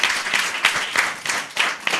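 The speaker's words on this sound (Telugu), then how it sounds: "చప్పట్లు కొడదాం గట్టి ఒకసారి." An audience at a church gathering claps loudly, a dense, even roar of many hands that surges in rhythmic pulses for two seconds with no voices over it.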